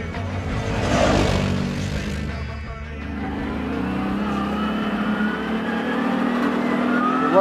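The V-twin engine of a CFMOTO CForce 800S Black Edition quad revs up, dips briefly, then pulls steadily with rising tones, loud and close throughout.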